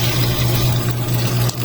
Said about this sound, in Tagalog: lagyan natin siya ngayon ng yan pinakulo natin na tubig